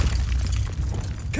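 A Bombarda blasting spell explodes in Hogwarts Legacy, giving a heavy, low rumbling boom with crackling, shattering debris that holds steady for over a second before a short tonal whoosh.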